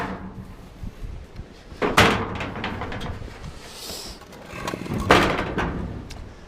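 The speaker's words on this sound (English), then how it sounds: "let's get the door open so we can get some light in here" A garage door is opened for light in a workshop during a Ford GPW jeep build, with two loud rattling, scraping bursts and some clunks in between, close by.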